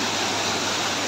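Elneeru Falls near Kalasa and Kudremukha roars in a steady, dense rush of falling water, close and loud throughout the short stretch with no voices.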